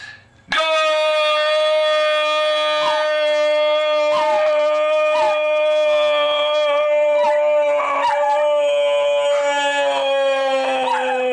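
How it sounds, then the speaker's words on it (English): A dog howls long and steady, loud and near, its sustained wavering wail carrying on for about ten seconds during a World Cup watch party for USA versus Belgium, with faint thumps and clatter around it. "Did y'all hear the dog howling?"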